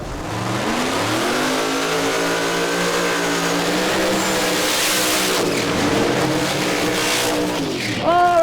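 No-prep drag race cars at US 131 Motorsports Park idling and revving as they head back toward the pits, loud rumbling engines with rising and falling pitch sweeps, one car blipping its throttle sharply at the end.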